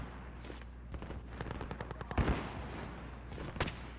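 Gunfire from a sniper rifle in Call of Duty Modern Warfare, a One in the Chamber match: rapid bursts of shots in quick succession, then a heavy near blast and a few later single reports, all at moderate volume.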